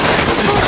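A dense, harsh burst of gunfire, loud and close, fills a brief moment as a continuous rattling blast with no pause and no voices.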